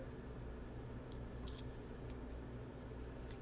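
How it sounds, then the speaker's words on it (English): A few quick, light snips of small scissors cutting paper close by over a steady low background hum. "I'm going to go ahead and use my little scissors here for the top of the little pumpkin."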